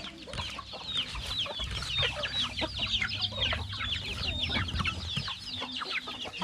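Chickens cluck steadily while feeding in a rural Thai family yard, a dense overlapping chorus of short calls at close range, with no talk.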